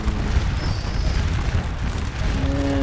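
Artillery guns fire during a Napoleonic Waterloo battle in the game Scourge of War, heard as a loud, continuous low rumble of booms. A faint tone enters near the end.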